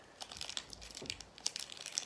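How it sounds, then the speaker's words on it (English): A small plastic toy bag being torn open by hand, giving quiet close crinkling and crackling in irregular bursts across about two seconds. "So we're gonna open up this little bag."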